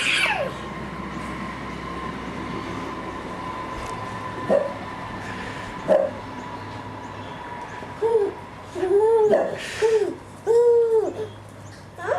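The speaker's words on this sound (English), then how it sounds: "here's 20 seconds of a cute puppy and baby video" A puppy gives soft, high yips, a couple of single barks and then a quick run of whimpering yelps in a quiet room with a faint steady hum behind.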